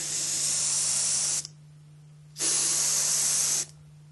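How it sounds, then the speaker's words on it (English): Gloss clear coat sprays onto an HO scale model in two steady hissing bursts of just over a second each, separated by a short pause, with a low electrical hum running underneath throughout. "I'm going to have to clear coat it with some gloss."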